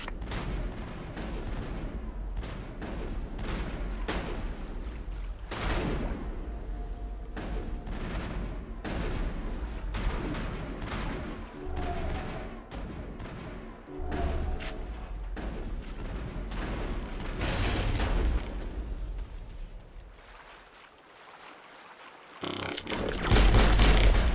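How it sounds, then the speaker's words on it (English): Video game gunfire from Mass Effect during a firefight on Virmire: dense bursts of rapid shots and heavy booms keep overlapping. It fades to a lull near the end before a loud burst returns. "Monolvi is under coordinated crossfire."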